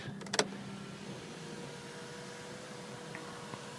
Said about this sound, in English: we have a moonroof. Let's make sure this thing works properly.